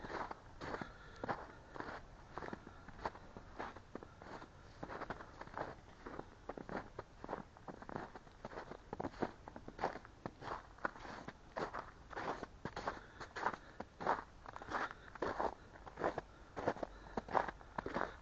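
Steady crunching footsteps on gritty ground during a foggy morning walk in Dorcol, close and continuous, with a regular walking rhythm throughout and no talking.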